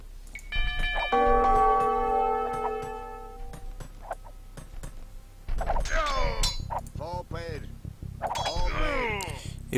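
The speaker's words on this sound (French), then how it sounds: "cliquez sur « Faire sonner les cloches de la ville »" Town bells ring out in Age of Empires II, a cluster of sustained, overlapping metallic chimes with bright harmonic tones that ring loudly for several seconds and slowly fade, followed by other game sounds and talking.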